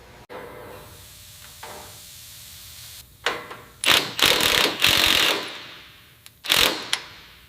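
A seized bolt on an old, abandoned airport tug being worked with a tool. After a quiet stretch come several close, loud, harsh ratcheting and hissing mechanical bursts in uneven clusters, with no talking.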